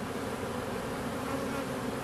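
Honeybees shaken off a frame into the hive give a dense, continuous, close buzzing swarm sound, steady and loud, with no voices.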